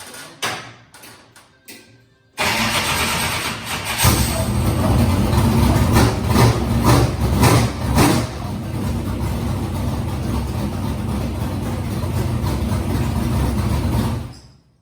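Race vehicle engine kick-started and left idling, a loud steady low rumble that starts abruptly after a few seconds of quieter handling noises and runs continuously to the end.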